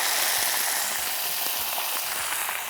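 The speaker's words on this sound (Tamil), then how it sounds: "எள்ளு இப்போலாம் பொரியணும். இப்போ நல்லா பொரிஞ்சிட்ருக்கு." Sesame seeds and curry leaves frying in hot oil, a loud, continuous sizzle and crackle with faint stirring scrapes at a regular rhythm, no voices.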